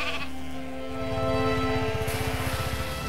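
Sheep bleat loudly and close in a lambing shed, one drawn-out wavering call filling most of the moment with faint rustling behind.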